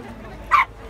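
At an outdoor dog festival, a dog gives one short, sharp bark or yip close by over quiet background murmur.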